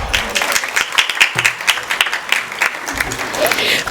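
Audience applause welcoming a teacher at a school golden jubilee gathering, many hands clapping in a lively, uneven patter that stays fairly loud throughout.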